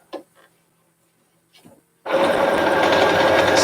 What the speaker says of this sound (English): I'm giving this sewing machine a workout